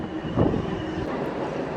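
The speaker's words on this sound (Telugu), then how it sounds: "1వ నెంబర్ ప్లాట్ఫామ్ మీదకి అయితే మన ట్రైన్ చేరుకుంది" A Hindupuram–Guntakal DEMU train pulls up to platform 1 at Dharmavaram station, its steady broadband rumble and rolling hum close by and continuous, with a brief louder swell early on.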